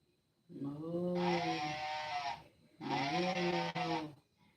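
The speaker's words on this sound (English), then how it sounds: "Cow goes, moo" Two long, loud moo-like calls, each about two seconds, with a brief pause between, close and clear with no talking.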